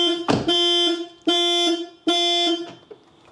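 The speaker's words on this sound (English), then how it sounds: "if I unlock the door from the inside, I should get an alarm" Volkswagen Jetta alarm blaring in loud, steady tonal bursts, three long sustained wails separated by brief gaps, close by and with no talking.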